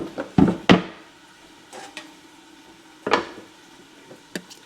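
A pan of frying potatoes is covered with a lid, giving a few sharp metallic clanks and knocks at close range followed by lighter taps over a faint background sizzle.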